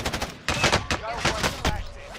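Rapid bursts of gunfire in the shooter game Warzone, sharp repeated cracks with brief gaps, fairly loud and close, mixed with in-game effects and players talking over the shots.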